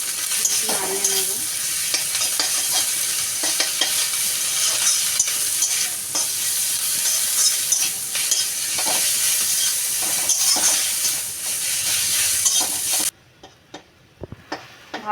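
Bitter gourd leaves frying in a pan with salt and turmeric, stirred continuously: close, busy sizzling with scraping stir strokes for about thirteen seconds, then the sound cuts out to near quiet with a few light knocks.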